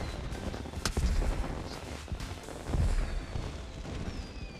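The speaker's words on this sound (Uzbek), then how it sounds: "Bomba otyapti." Bombs or firecrackers going off outdoors on New Year's Day, a few sharp loud bangs, one around the first second and another nearer the third, over background crowd noise.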